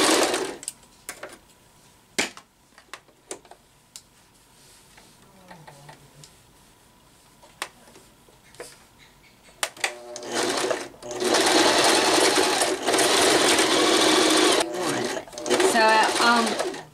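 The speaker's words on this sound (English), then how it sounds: "then we're just going to sew a straight seam" A sewing machine stitches a seam on a fleece blanket pillow cover. A few short ticking bursts come first over quiet background, then a loud, close, continuous run of rapid stitching fills the second half.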